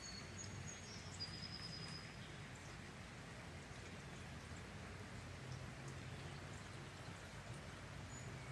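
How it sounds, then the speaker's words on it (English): Steady rain falls across a garden, a soft, even patter and hiss with no voices, heard at moderate distance and continuing without a break. "The sound of the rain is relaxing."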